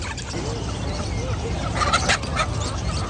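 Fowl and other birds gobble and call in a busy bird market in Baghdad, a dense mix of cries from several directions over constant crowd noise, with faint talk in the background.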